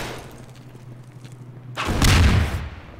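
Half-Life 2 gunfire aimed at the player: a low steady hum gives way to a sudden loud blast near the middle, with a rough, booming tail that fades within a second.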